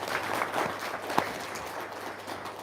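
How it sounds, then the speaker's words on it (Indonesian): Audience applause at a religious talk, a moderate, steady patter of many hands lasting a few seconds, with one sharper clap standing out midway. "Tepuk tangan dulu dong."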